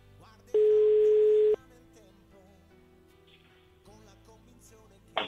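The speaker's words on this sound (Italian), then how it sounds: "Squilla, speriamo. che risponda." A phone line ringing on an outgoing call, with one loud steady ring tone lasting about a second, then quiet line hiss with faint background sound and a brief click at the end.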